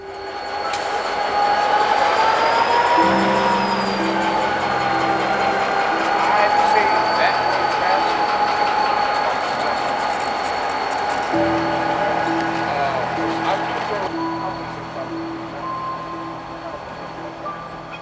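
A train reverses slowly through a rail yard, with loud sustained engine drone, squealing wheels, tonal beeping and clanking wagons close by, changing pitch as it moves.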